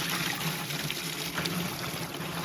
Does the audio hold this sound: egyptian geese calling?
no